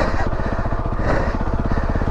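A Beta motorcycle on a chalky green lane in Surrey, its engine revving hard with a fast steady thumping pulse while the clutch slips, loud and close throughout.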